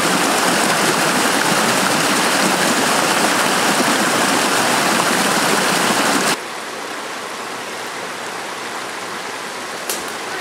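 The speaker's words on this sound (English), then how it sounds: "Little waterfall." A small waterfall in North Carolina roars as a loud, steady rush of falling water, then drops abruptly to a softer flowing hiss partway through, with a faint brief knock near the end.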